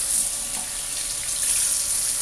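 Tap water runs steadily into a sink to rinse pieces of meat, pork neckbones being cleaned, giving a continuous close hiss and splash with no talking.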